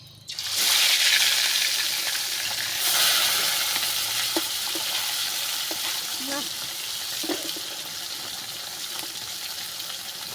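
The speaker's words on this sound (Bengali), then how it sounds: "তেলটা গরম হয়ে গেছে" Small rohu fish slid into hot oil for a fish curry: a loud burst of sizzling spits up at once, then settles into a steady crackling fry with faint clinks.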